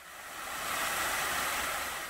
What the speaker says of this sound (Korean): 바로 옆에 있는 인공폭포의 물소리가 청량합니다.